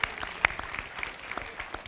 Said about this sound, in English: A round of applause for those people